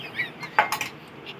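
A small steel bowl scrapes and clinks against rolled dough on a board as its edges are trimmed for a palm-fruit crab-shaped pitha, a few short, close taps and scrapes with no talking.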